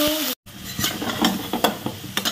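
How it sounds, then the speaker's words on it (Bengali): Meat fries in white oil in a pan for chowmein, crackling and sizzling up close while a utensil stirs it with intermittent scraping clatters, and nobody speaks. "প্রথমে কি বলতো, মাংসগুলোকে একটু ভেজে নেব।"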